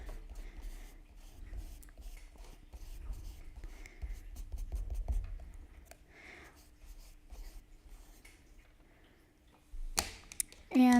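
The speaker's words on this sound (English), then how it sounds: "I actually got this new eraser, the kneaded eraser, for Christmas. I don't know how it works exactly, but let's just erase this." Soft, quick scratchy rubbing strokes of a kneaded eraser working over a pencil drawing on paper, close and quiet in irregular bursts, with a sharper clatter near the end.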